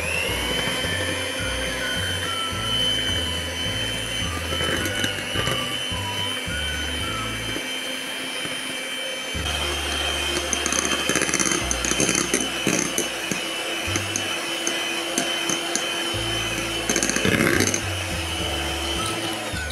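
An electric mixer beating granulated sugar and wheat flour into a thick white cake batter for mini cheese sponge cakes, a loud continuous whirring drone that shifts in load and pitch for the whole stretch.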